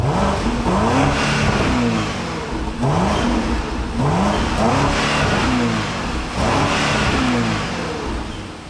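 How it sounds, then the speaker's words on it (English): A 2025 BMW X7 M60i SUV's electrically assisted twin-turbo V8 revs repeatedly while parked, with about five loud, close rising blips that fall back to a burbling idle between them, and no talking. "it is really satisfying to hear the burble of that twin turbocharged V8 that's also electrically assisted"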